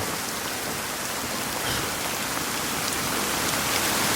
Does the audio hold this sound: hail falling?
yes